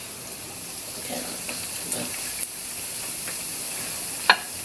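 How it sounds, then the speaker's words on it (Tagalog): A thinly coated pork chop fries in a pan over low heat, giving a soft, steady sizzle and hiss with a few small pops and crackles, close and fairly quiet, with no talk. "isasalang na natin. Mahinang apoy lang, wag masyadong malakas."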